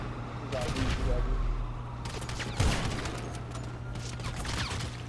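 Rapid bursts of automatic gunfire in GTA 5, close and loud, coming in clustered volleys with brief gaps between them, while a player talks over the shooting.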